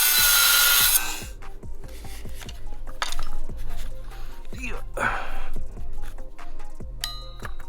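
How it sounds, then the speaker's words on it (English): A Dremel cutting off part of an Integra manual-converted steering rack: a high whining grind at the start, then clanks, scrapes and handling knocks of metal parts close by. "we're just gonna chop this guy off with a Dremel"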